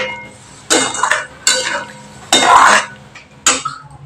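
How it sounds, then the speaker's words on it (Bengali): Prawns in mustard and poppy seed gravy stirred in a pan with a utensil, coming as four separate bursts of scraping and clinking against the metal, close and clear with quiet pauses between them. "এবার আমি একটু ভালো করে নেড়ে নিচ্ছি।"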